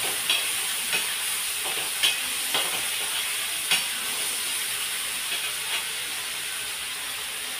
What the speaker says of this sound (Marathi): आता हे सगळ्याला एकजीव करून परतून घेते 5 मिनिटं.